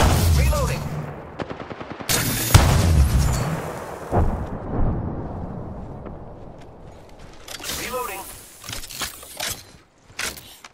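Charge Rifle fire in a video game: a sharp, loud opening blast followed by several heavy broadband bursts over a rumbling game ambience, then later a cluster of crisp close shots and clicks.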